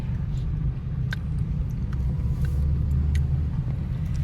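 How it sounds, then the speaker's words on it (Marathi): Car with a loose or missing belt makes a steady low rumbling engine noise while driving, close and continuous, with a few faint ticks above it. "म्हणून आवाज करते गाडी."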